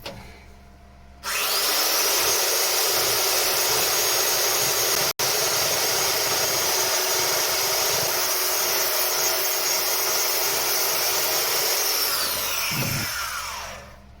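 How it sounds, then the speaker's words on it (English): A finger belt sander rounds off the edge of hardened filler, running loud and continuous at close range with a steady high whine and grinding rasp, the belt rubbing on its spindle, before spinning down at the end. "So I'm just going to get the old finger blaster out and take off this edge."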